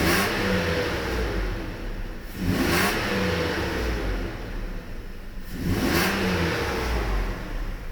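Mercedes S600 coupe engine idling steadily, then two quick taps on the gas send the revs rising and falling back, close and fairly loud, with no talking.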